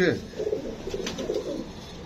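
A young pigeon gives soft, low, throaty coos close by, a short rolling call with a faint background hiss.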